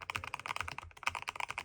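A fully aluminum Lofree Flow 2 mechanical keyboard with linear switches being typed on: a quick, dense, rhythmic run of muted clacks, close and clear, without speech.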